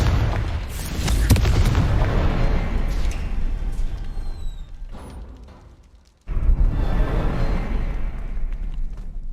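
A Confringo blasting spell in Hogwarts Legacy sets off a deep, rumbling explosion that swells, fades, then cuts abruptly into a second loud blast with a sustained roar, no voices present.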